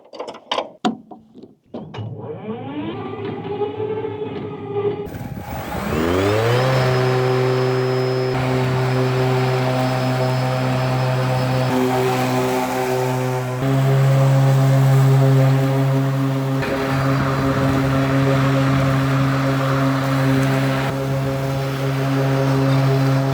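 A Cramer Optimus lawn mower on a large country property starts with a few sputters, then settles into a loud, steady, close engine drone with a whining tone that holds for the rest of the clip.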